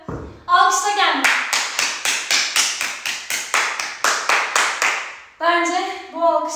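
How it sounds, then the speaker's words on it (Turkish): A single person claps crisply and rhythmically, about a dozen evenly spaced close hand claps after a full-body workout, with a voice speaking briefly before and after the clapping. "Alkışla kendini."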